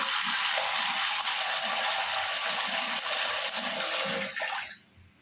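Water is poured and splashes steadily while chicken mince is washed in a Punjabi village kitchen, a continuous close gushing that tapers off at the end.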